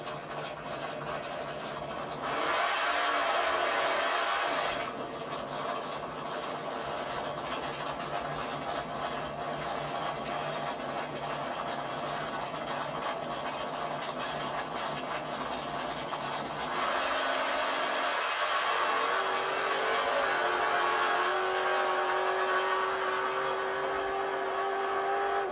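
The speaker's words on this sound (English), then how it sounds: "Steve Jr. is driving his Camaro." Chevrolet Camaro engine and road noise at a July 4th birthday gathering, a steady broadband rumble that swells louder in two stretches as the car passes.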